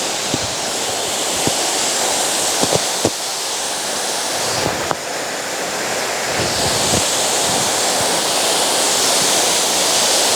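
Broadband rush of a big waterfall running with only a little water, steady and continuous outdoors with a few faint knocks and no talk.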